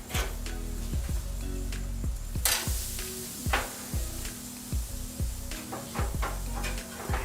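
Cusk fish fillets sizzle in a pan while two spatulas scrape and flip them, a constant frying hiss broken by repeated metallic scraping strokes and one louder burst of spitting oil.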